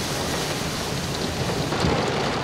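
Heavy rain from a supercell thunderstorm near Nördlingen, Germany, pours in a constant, loud wash with a low rumble of thunder underneath, swelling slightly toward the end.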